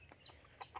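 Chickens clucking nearby, a few short soft clucks spaced irregularly over a faint background, no voices.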